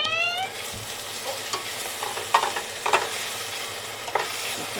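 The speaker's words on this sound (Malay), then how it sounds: "Kita kacaukan dulu." A spoon stirs chicken percik ingredients in a hot pan, with scraping strokes and intermittent clinks over a soft steady sizzle of frying, close and fairly quiet.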